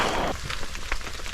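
Steady rain patters on a poncho along a muddy mountain hiking trail on Argopuro, a dense close hiss with a few sharper drop taps in one brief stretch, and no talking.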